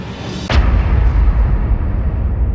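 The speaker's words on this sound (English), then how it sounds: "The glow exploded, and Mittens crashed to the floor with a loud thud" A loud explosion sound effect with a sharp onset, followed by a deep, rumbling low-frequency boom that sustains and slowly fades.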